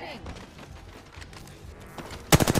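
Rival squads' gunfire in Apex Legends breaks out as a sudden, loud burst of rapid shots at the very end, following a quieter stretch of game ambience.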